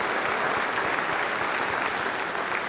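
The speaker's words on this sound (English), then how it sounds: "Give him a round of applause," A church congregation at a homily applauds, dense, even clapping from many hands filling the space at a steady level throughout.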